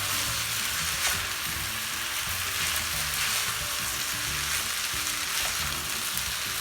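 Paneer fried rice being tossed with vegetables in a hot pan: constant loud sizzling and hissing with soft scraping stirs throughout, no voices.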